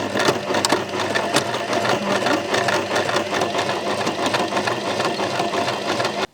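A sewing machine stitching upholstery fabric runs steadily with a fast, even mechanical chatter, loud and close, stopping abruptly at the end.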